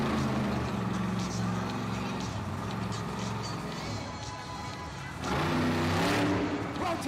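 A Monster Jam monster truck, Zombie, restarts and revs loudly at a freestyle event, with a sustained roar that surges near the end, heard over arena crowd noise.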